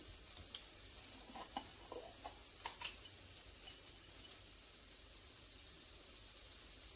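Onions seasoned with house seasoning saute in a pan with a soft, steady sizzle, while a utensil stirs and taps a few times close by.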